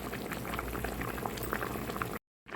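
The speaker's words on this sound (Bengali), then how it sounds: "এখন আলু এবং বেগুনটা সেদ্ধ হওয়া পর্যন্ত মাছটা আমি রান্না করে নিব" Koral fish curry with potato and brinjal simmering in a pot, its thick gravy bubbling in a steady close-up boil that runs unbroken before a brief cut to silence near the end.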